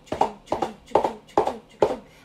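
A person imitates horse hooves clip-clopping during a children's yoga story session, five evenly spaced, hollow knocking beats, close and clear with no other sounds.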